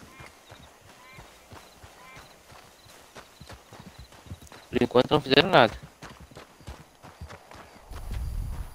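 A horse in the video game Red Dead Online walks along with hooves clip-clopping in a steady rhythm under someone talking, with a loud burst of clatter midway and a low rumble near the end.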